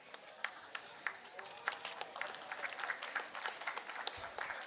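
Students at a university convocation applaud with scattered, irregular claps that thicken into a fuller patter, with faint voices murmuring underneath.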